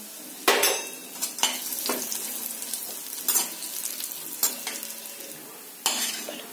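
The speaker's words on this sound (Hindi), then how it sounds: "अब मैं खारक को भी सेक रही हूँ" Dry dates are roasted in a kadhai, a spatula scraping and stirring them at irregular intervals while a soft steady sizzle continues underneath, close and fairly quiet with no talking.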